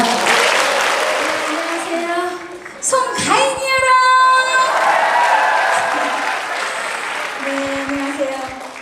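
Audience applause at a traditional Korean music concert in Mokpo, loud sustained clapping with someone speaking over it and tonal voices and music swelling through the middle.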